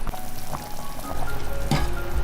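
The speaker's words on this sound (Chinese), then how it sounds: "加入少许料酒" A short pour of cooking wine splashes into a pot of pork ribs blanching in cold water, a soft liquid trickle with light bubbling and a brief louder splash near the end, close by and without speech.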